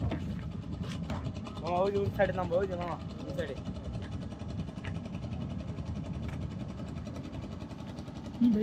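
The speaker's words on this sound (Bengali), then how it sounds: "এই যে একটি ছোট নৌকা আসতেছে" A small boat's engine on the Jamuna river, a low steady drone that stays faint and continuous under a voice talking.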